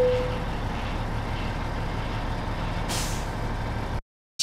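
Air brake hiss as the handbrake is set on a truck in American Truck Simulator, a brief burst of air over a steady engine drone before the sound cuts out.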